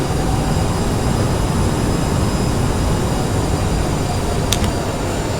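The engines of a CRJ700 jet airliner roar during a nighttime takeoff, heard as a loud, steady, broadband drone that fills the whole stretch, with faint high tones above it and a brief click near the end.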